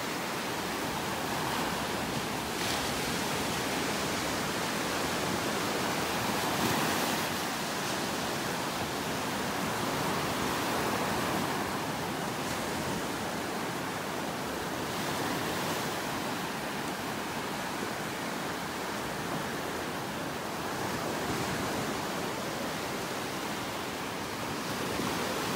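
Small waves wash in steadily on a beach in North Naples, Florida, a continuous broad hiss of surf with gentle swells every few seconds, fairly close and even in loudness, with no voices.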